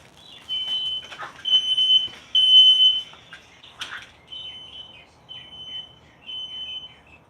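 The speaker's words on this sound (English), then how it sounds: "I got a alarm going off in there" An alarm sounds faintly from another room as intermittent high-pitched electronic chirps and beeps in irregular bursts, with quiet gaps between them.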